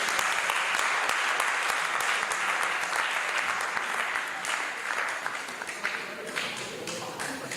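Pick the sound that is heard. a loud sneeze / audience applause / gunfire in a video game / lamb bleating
audience applause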